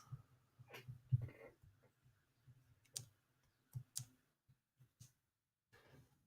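Quiet, scattered clicks of buttons being pressed on a graphing calculator while entering table values into its lists, irregular single taps spaced through a near-silent room.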